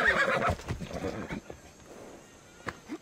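A horse whinnies loudly at the start in the video game Assassin's Creed Odyssey, followed by scattered hoof clops and softer movement sounds that fade into quieter game ambience.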